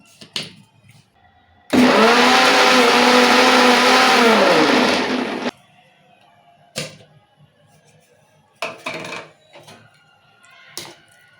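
A mixer grinder grinding a gongura chutney whirs loudly for a few seconds, then stops, followed by a few scattered knocks and clatters.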